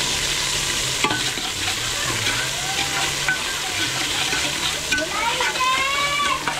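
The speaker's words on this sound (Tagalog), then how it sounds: "magluto ng dinuguan. Sabay lagyan ng asin." Dinuguan cooking in a pan with garlic, onion and ginger, frying with a constant sizzle while a utensil stirs and scrapes. A voice speaks faintly underneath.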